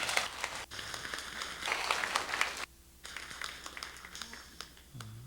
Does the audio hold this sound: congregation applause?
yes